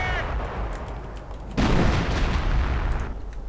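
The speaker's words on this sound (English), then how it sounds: "I can hear some kind of artillery." Hummel self-propelled artillery shelling in the World War II strategy game Europe in Ruins: a loud, dense rumble of distant booms and explosions, swelling into a heavier blast midway, with a voice talking faintly underneath.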